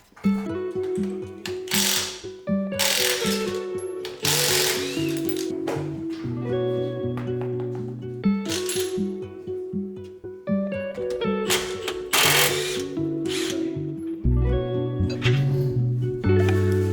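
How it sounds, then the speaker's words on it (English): Hand tools work on a bolt of a Toyota Mark II coilover during a suspension upgrade, with loud, repeated ratchet clicking in bursts, metallic clinks and mechanical clatter up close. "I removed the bottom bolt that's holding the bottom part of the coilover"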